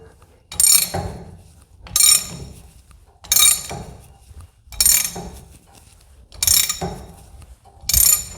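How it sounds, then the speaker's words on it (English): A ratchet tightens a self-locking nut on a man-lift steer cylinder, heard as six close, sharp bursts of clicking spaced about 1.4 seconds apart, with quiet pauses in between. "I'm just going to ratchet this in until it gets fairly tight."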